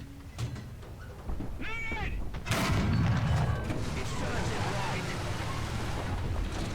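A Tiger II (Panzerkampfwagen Tiger Ausf B) tank cannon fires in a video game. One loud, sharp blast lands partway through, and a long rumbling tail follows it. Faint game noises and squeaks come before the shot.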